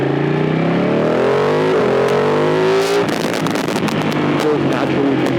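A Ducati 959 Panigale twin-cylinder motorcycle engine revs steadily and loudly up close, its pitch climbing for a few seconds before a rougher, busier burst of revving.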